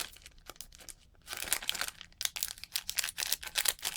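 Plastic packaging from a camera accessory unboxing being cut open, a run of close, crisp crinkling and tearing rustles that grows louder after a quiet start and continues in irregular bursts.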